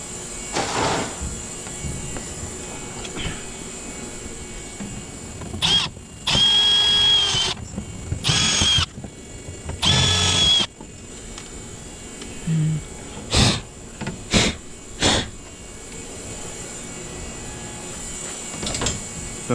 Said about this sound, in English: now we will drill the holes through the back side.